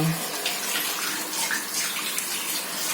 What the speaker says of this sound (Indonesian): Nah, ini kita bersih bilas.